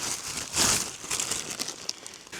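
Plastic bag crinkling outdoors while gathering mushrooms, a short loud rustle followed by softer scattered crackles close to the ear.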